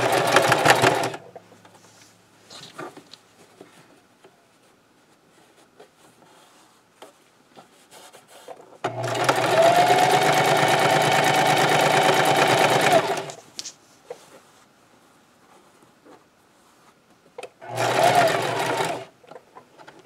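A domestic sewing machine stitches a scrub cap, running in three bursts of rapid rhythmic needle chatter, the longest a steady four-second run, separated by quiet pauses with small handling clicks.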